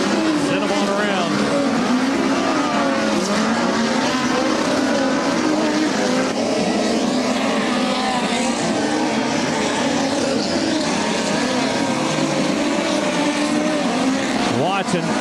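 USAC midget race cars run hot laps on a dirt track at the BC39. Their engines make a continuous, dense, loud roar that swells and shifts as several cars circle throughout.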